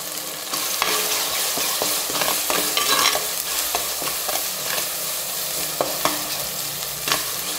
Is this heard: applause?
no